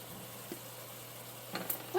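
Sausage, ham and white wine simmering in a pot give off a faint, steady low sizzle with a few small pops and scrapes, quiet and close, with no talking.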